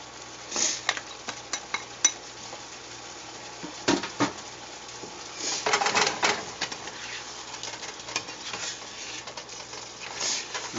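Garlic asparagus simmering in broth in a pan, with clinks and scrapes of a utensil against the pan over a soft bubbling bed, in irregular bursts.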